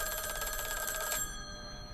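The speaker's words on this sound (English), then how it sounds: "I hear a phone." A telephone rings with a rapid trilling bell, steady and fairly close, then stops abruptly and leaves a faint ringing tail.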